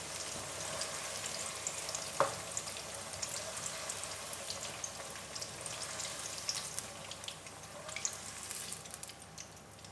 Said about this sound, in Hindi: चेंज होने तक इसे फ्राई करेंगे।